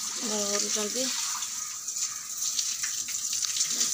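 Water gushes steadily from a municipal tap as containers fill, with a voice speaking briefly at the start over the continuous running water.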